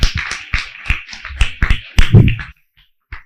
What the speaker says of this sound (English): A round of applause for Mrs. Jegede.